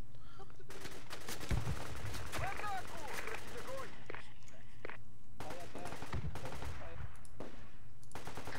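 Bursts of PPSh submachine gun fire in the military shooter game Project Reality, with rapid automatic volleys and scattered shots mixed with quiet voices and footsteps.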